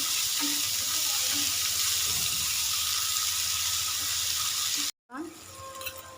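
Chopped onions frying in a pan for a halwai-style white chickpea curry, with a steady, close sizzle throughout. A brief cut interrupts it, then the frying resumes more quietly.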